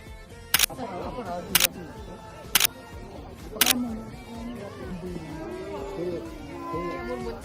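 A camera shutter clicks four times in sharp, evenly spaced snaps at a scenic mountain park in South Korea. A voice talks quietly underneath.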